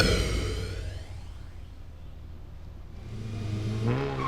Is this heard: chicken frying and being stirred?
no